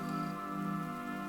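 Steady rain falls in an even, continuous hiss with no breaks, filling the short stretch on its own with no voices.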